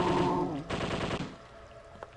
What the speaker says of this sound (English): Bullets. Machine gun.